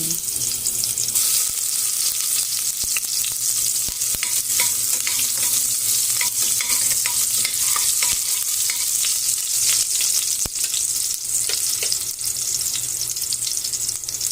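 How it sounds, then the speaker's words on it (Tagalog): Garlic frying in hot oil for chicken macaroni, a loud, dense and continuous sizzle that crackles close up for the whole stretch, with occasional sharp spatters and no talking. "Lagyan natin ng oil. Then, isunod natin yung ating bawang."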